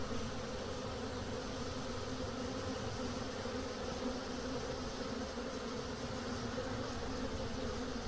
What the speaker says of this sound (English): So these bees are searching for the queen.